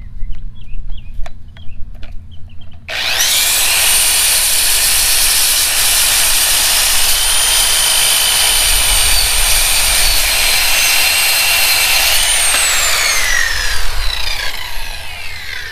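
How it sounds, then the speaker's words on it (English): A circular saw runs off an Oupes 1100 W solar generator with a 1500 W peak, spinning up after a few seconds of quiet and then cutting with a loud, steady high whine and hiss that holds for about ten seconds before winding down. "So a circular saw works."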